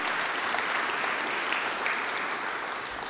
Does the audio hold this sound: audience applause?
yes